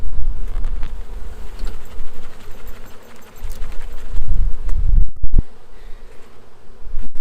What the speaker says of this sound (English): Let's shake these bees in.